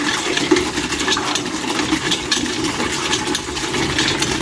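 Water gushes strongly and steadily from a tap outdoors, a continuous rushing flow with no speech.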